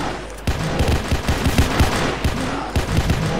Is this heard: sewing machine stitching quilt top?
no